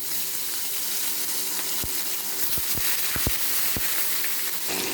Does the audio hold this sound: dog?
no